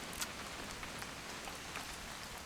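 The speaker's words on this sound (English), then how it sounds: "It's gonna rain the whole weekend, isn't it?" Steady rain falls in the video game What Remains of Edith Finch, an even hiss of drops on surfaces throughout, soft and continuous with no voices.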